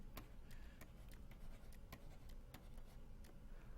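Pen strokes from sketching parse trees by hand during a natural language processing lecture, faint scratchy writing with short rhythmic ticks under a steady background hiss, no talking.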